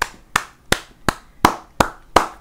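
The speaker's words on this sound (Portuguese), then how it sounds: "vou bater as palmas, mano." Six sharp hand claps, evenly spaced at a steady moderate pace, close and fairly loud with no talking.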